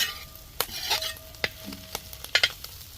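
Fennel seeds crackle and pop in hot oil in a pan while being stirred, giving scattered sharp snaps over a soft sizzle and the scrape of a spoon, close and fairly quiet.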